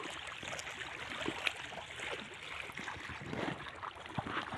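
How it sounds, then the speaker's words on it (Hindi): Fast-rising water flowing at Mangla Dam, a faint, continuous rushing and gurgling wash with small splashes, heard from close by and steady throughout. "ये पानी देख लें, काफ़ी जनाब ऊपर आ रहा है पानी तेज़ी से।"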